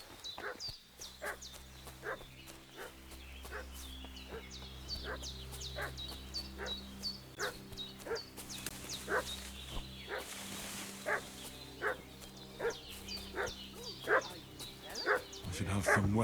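A dog in the medieval video game Kingdom Come: Deliverance II barks again and again in fussy, regular yaps, close and sharp, over a low ambient music drone.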